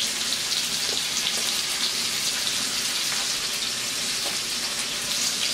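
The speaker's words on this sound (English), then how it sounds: "our water coming to a boil, so we're going to put in our angel hair pasta" Angel hair pasta goes into a pot of water coming to a boil, giving a steady, loud bubbling hiss that runs unbroken from start to finish, close by, with no talking.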